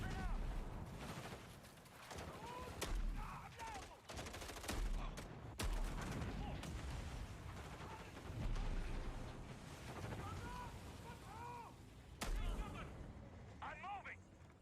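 Booming shotgun blasts and other gunfire punctuate a video game trailer, with loud irregular shots mixed with explosions, rumbling effects and a voice talking over the action.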